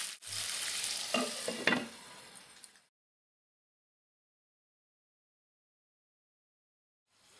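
Chicken sautéing in a pan, a close sizzle with scraping stirs for under three seconds, then silence.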